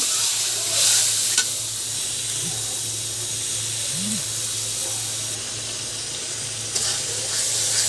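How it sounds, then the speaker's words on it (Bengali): Spices sizzle loudly in a pan with a little water, a steady hiss with occasional stirring scrapes close by. "পানি দিয়ে কষাই নেব"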